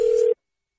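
A steady telephone tone sounds briefly and alone, cutting off abruptly after about a third of a second, as a prank call is placed on a radio show.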